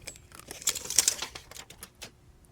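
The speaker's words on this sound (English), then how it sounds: "Get my tape measure." A metal tape measure is pulled out in a workshop while fitting a flail mower to a quick hitch. A fast, uneven run of close, light rattling clicks peaks in the middle, then trails off.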